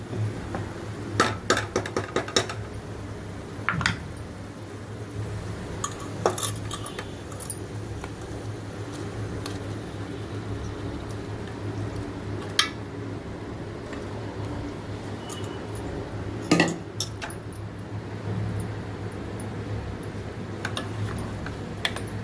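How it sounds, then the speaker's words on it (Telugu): Goat head pieces being mixed with masala in a pot, heard as irregular light clinks and knocks of a spoon against metal, with bursts of clatter scattered over a quiet, steady background. "బాగా కలిపిస్తే మసాలా అంతా కలిసిపోయేటట్టు పూర్తిగా అంతా మిక్స్ అయిపోవాలి"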